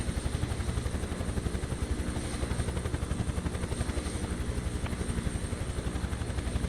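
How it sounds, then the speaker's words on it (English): A helicopter in Microsoft Flight Simulator 2024 over the Grand Canyon, its rotor beating in a fast, steady rhythmic chop over a loud, continuous engine roar. "So yeah, helicopter is the best."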